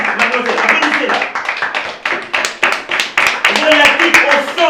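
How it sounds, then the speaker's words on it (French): Clapping from a small audience during a Congolese theatre performance: uneven bursts of sharp, close hand claps with pauses between them, loud and mixed with voices talking and calling out over the clapping. "Hé, madame, mademoiselle, applaudissez là"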